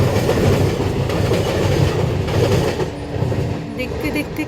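A train passes just in front of a house, a loud, steady rumble with a faint rhythmic clatter of wheels that runs for the whole stretch and eases slightly toward the end.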